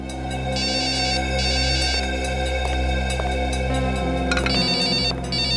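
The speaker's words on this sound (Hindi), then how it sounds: "आपका फोन बज रहा है।" A phone's electronic ringtone rings steadily and loudly throughout, its jingly pattern repeating over a low steady hum.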